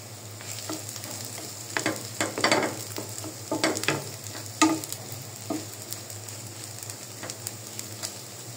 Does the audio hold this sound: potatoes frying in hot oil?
yes